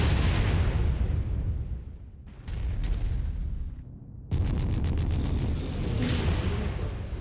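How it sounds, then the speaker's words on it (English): An incoming missile explodes in the video game MechWarrior 5, with loud, rumbling blasts that briefly ease off and then return, continuing without talk. "incoming missile"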